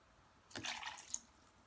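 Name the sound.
water being added to hummus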